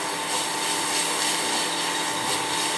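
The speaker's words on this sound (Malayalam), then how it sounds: "നന്നായിട്ട് ഇളക്കി കൊടുക്കാം." A spoon stirs egg roast masala in a pan, producing a continuous close scraping and rubbing sound with faint sizzle, steady throughout and without any voices.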